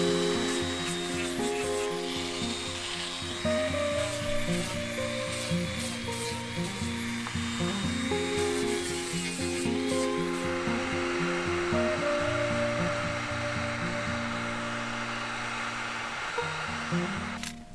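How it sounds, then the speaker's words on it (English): A belt sander rounds over the edges of a wooden staff with a steady, whirring abrasive roar that runs throughout, partly masked by loud background music. "I use my belt sander and round over the edges to make this look a little more vine-like"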